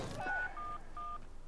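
Phone keypad dialing tones in the video game Watch Dogs: three short, clean beeps in quick succession, fairly faint and heard alone with no talking.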